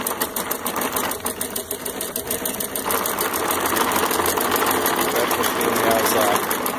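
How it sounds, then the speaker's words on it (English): A small motor-powered model steam engine belt-drives a miniature threshing machine with a shaker, giving a steady, fast mechanical whirring clatter that grows busier partway through, with someone talking over it. "The belt comes to this little thrashing machine."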